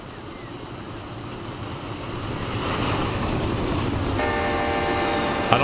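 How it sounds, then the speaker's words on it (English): An Amtrak train rolls past in the Run 8 Train Simulator game, a steady rail rumble that grows louder partway through, with a brief horn-like tone near the end and someone speaking faintly over it. "we can watch the Amtrak go by at least"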